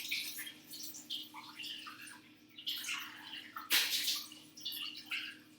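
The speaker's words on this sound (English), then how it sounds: "So I'm just running the tap." A kitchen tap runs with low water pressure, producing a steady splashing hiss with uneven bursts and drips, heard close and moderately quiet with no talking.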